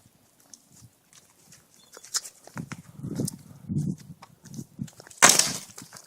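A soda bottle packed with dry ice bursts in one sudden, loud, short blast after several seconds of faint rustling and scattered low thumps nearby.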